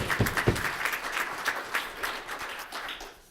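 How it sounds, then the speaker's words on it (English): A conference audience at an urban transportation event applauds a speaker, giving a short burst of moderately loud clapping with distinct individual claps that tapers off toward the end. "a big round of applause for Stephen Polonkronis from AECOM"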